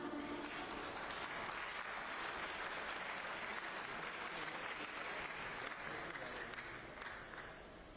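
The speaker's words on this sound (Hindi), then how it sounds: "आपकी तालियों का साथ मिलता है।" Audience applause at a Uttar Pradesh government event for MSME and handicrafts, greeting the deputy chief minister; dense, steady clapping from a large crowd carries on for the whole stretch and tapers slightly at the end.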